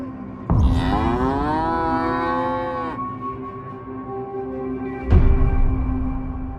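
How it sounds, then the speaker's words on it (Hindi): A cow tied up inside a village shed in Uttarakhand lets out one long, loud, drawn-out moo close by, with clunks and knocks around it and a few other cows also tied up nearby. "अंदर मैं देख पा रहा हूँ 3 गाय बंधी हुई है"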